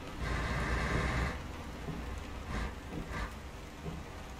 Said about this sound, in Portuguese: Jogar na chuva é bom demais, cara.